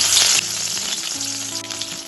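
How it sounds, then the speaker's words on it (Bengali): Rohu fish pieces rubbed with salt and turmeric hit hot mustard oil in a pan, giving a loud, steady close sizzle and crackle that eases slightly as it continues, with no voices. "এখন আমি লবণ হলুদ মাখিয়ে রাখা মাছটা তেলে দিয়ে দিলাম"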